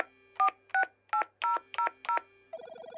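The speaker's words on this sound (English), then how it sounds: "stared at the phone for a second, then dialed" A telephone keypad being dialed: six distinct touch-tone beeps in a steady, evenly spaced sequence, loud and clear with a low hum beneath, followed by a ringback tone starting at the end.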